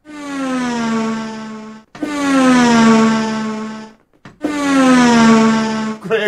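A Formula 1 car from a racing game sound effect sweeps past three times in a row. Each pass is a loud, high engine whine whose pitch drops as it goes by, with short gaps between them.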